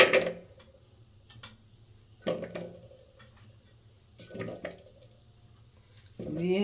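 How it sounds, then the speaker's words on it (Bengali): Amla (Indian gooseberries) dropped into a pressure cooker, a few separate knocking clatters of small fruit hitting metal, spaced a couple of seconds apart, close and fairly quiet. "আমলাগুলো আমি প্রেশার কুকারের মধ্যে সব দিয়ে দিচ্ছি"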